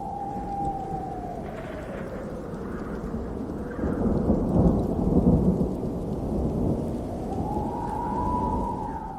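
A thunderstorm with rain sound effect plays as a low, continuous rolling rumble over a steady wash of rain. The rumble swells near the middle, and a faint sustained tone drifts underneath.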